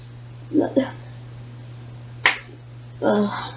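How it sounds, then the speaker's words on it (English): A single finger snap lands sharply between bursts of nearby talking, a short bright click standing out alone in a quiet indoor room with a steady low hum underneath. "That was me snapping."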